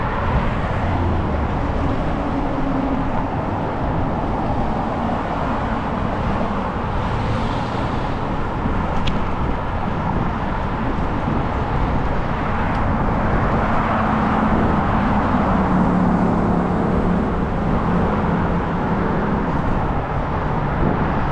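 Road traffic on Orchard, a bigger street, heard during a bike ride: a continuous broadband roar of passing cars, with a few louder vehicles swelling by, steady and fairly close throughout with no speech.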